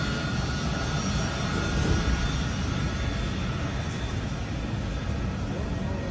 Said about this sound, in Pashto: دا قطر والا طیاره رااله